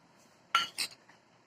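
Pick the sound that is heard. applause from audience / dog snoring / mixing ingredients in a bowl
mixing ingredients in a bowl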